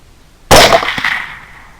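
A single sharp rifle gunshot fired during a night hog hunt in high grass, a loud abrupt crack followed by a decaying ringing tail, alone with no talking.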